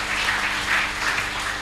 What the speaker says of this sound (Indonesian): Boleh tepuk tangannya untuk Kak Dipa Utomo.